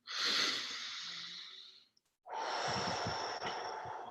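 A person takes deep breaths during a guided breathwork exercise: a long, airy exhale fades out, then after a brief pause a strong, close inhale follows, both loud and breathy with no talking.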